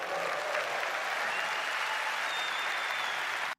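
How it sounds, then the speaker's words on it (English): Audience at the Nvidia 2024 keynote breaks into sustained, dense applause, a loud, even wash of many hands clapping for several seconds before cutting off abruptly. "I got the loudest clap for the partnership."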